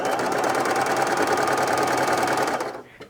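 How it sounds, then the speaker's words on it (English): A sewing machine stitches off-white fabric in a steady rapid mechanical whir with fast rhythmic needle clatter, loud and close, stopping abruptly near the end. "then I'm going to sew on some off-white fabric."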